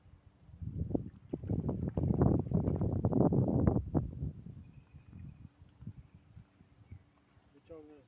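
Gusty wind roars across the microphone by the water during a pike fishing outing, rising loud for a few seconds then easing off, with bursts of speech around it.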